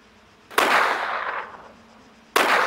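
Two sharp, loud rifle shots from a hunting-style CZ rifle in the military shooter Arma 3. Each hits hard and decays slowly over about a second, spaced roughly two seconds apart.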